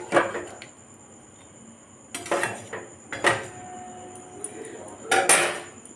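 A spoon scrapes and clinks against a pot while Bihari chicken curry is stirred, a few separate metallic knocks and scrapes spaced apart, fairly close and quiet, with a brief voice now and then.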